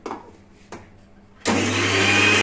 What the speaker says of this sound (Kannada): ರುಬ್ಕೊಂತೀನಿ ಬೆಳ್ಳುಳ್ಳಿ